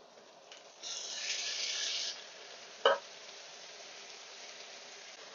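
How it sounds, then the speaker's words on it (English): Asparagus hitting a pan of browned butter and shallots, a short burst of bright sizzling, then quiet frying with one sharp clack from a utensil. "Now we add in our asparagus."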